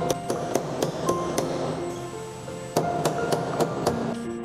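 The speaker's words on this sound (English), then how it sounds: "Okay, hammer the four raised areas flat." A hammer flattening raised areas on a battery module bracket for a Nissan Leaf ZE0 battery install, with a series of sharp metallic strikes, some ringing, at an uneven pace.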